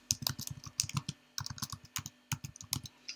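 Close, brisk typing on a computer keyboard entering a search term, a steady run of crisp key clicks with short gaps, no voices.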